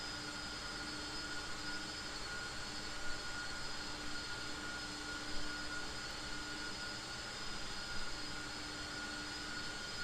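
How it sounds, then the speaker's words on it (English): A simulated aircraft engine in the Prepar3D flight simulator runs at full throttle with the brakes held, a steady, loud drone and whine with a constant pitch and no talk over it. "We'll still get it up to full throttle before I release the brake."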